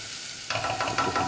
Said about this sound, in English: once the onions has been frying for about a minute or so